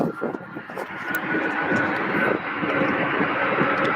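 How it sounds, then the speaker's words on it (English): A UPS Boeing 757 jet departing on runway 17 right at Louisville, a steady roaring engine rumble that starts faint and holds at a moderate distance. "757 departing on runway 17 right."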